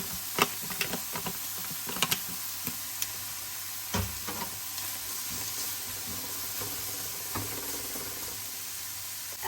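Speck sticks fry in a pan during cous cous preparation, a soft continuous sizzle broken by faint clicks and scrapes of stirring, quiet and without talk.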